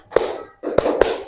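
Hands clapping in a classroom rhythm called tepuk 4: crisp, close claps in a short burst, with one clap, a brief gap, then two more in quick succession.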